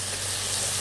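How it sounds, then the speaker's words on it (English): Spices frying in a curry pan (turmeric, red chilli, garam masala, cumin and coriander powders) give a short, steady, close sizzle with no voices. "Now give it a stir"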